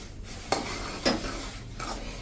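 Sesame seeds are stirred into hot jaggery syrup in a pan for thin chikki, with three distinct scraping strokes over a soft bubbling sizzle, close and clear with no talking.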